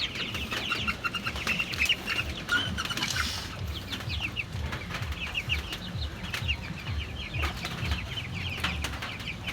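Chicks and hens cheep and cluck in a farmyard, a dense run of high, busy chirps over a steady low murmur, with no talk.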